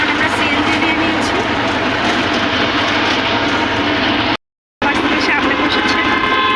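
Engine of a CNG auto-rickshaw droning loudly and steadily from inside while riding, with wind and road rumble, briefly cut out before resuming.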